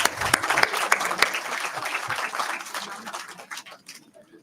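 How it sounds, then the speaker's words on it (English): Audience applause fills a conference hall at an international maritime conference, a dense, steady clapping that runs for about four seconds before thinning out and fading near the end. "A huge round of applause,"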